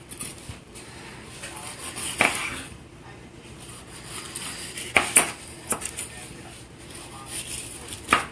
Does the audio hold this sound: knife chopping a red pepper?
yes